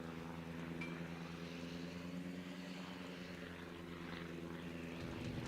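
Propeller fighter planes droning overhead in the naval video game World of Warships, a steady, dense engine hum that holds throughout without speech.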